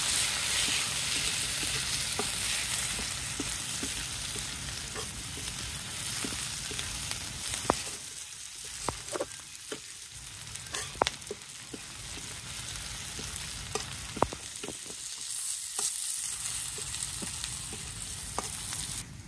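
Vegetables fry in a pan with onions, a continuous close sizzle with intermittent clicks and scrapes of stirring; the sizzle dips briefly in places before picking back up.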